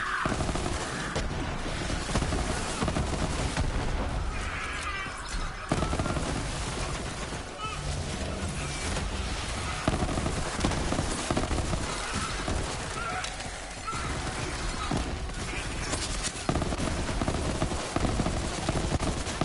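Gunfire from the Hornet legendary pistol in Borderlands 3, with loud rapid shots and bursts running continuously under dense game sound effects and music, with no pauses.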